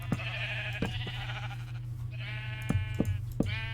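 Minecraft sheep bleat several times in close succession over a steady low hum, the calls loud and near.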